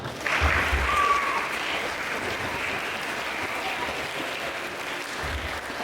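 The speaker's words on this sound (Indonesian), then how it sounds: "Tepuk tangan." An audience at a talk show in a modern Islamic boarding school breaks into sustained applause, a dense wash of clapping that stays fairly even for several seconds with a voice faintly audible underneath.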